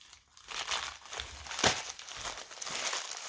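Close, soft crinkling and rustling of plastic packaging on a video game, handled continuously at a quiet level with a few sharper crackles.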